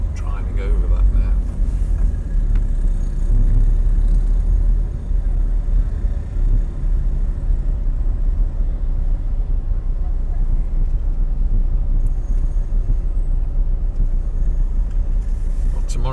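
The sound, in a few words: car driving along Paseo Maritimo, Palma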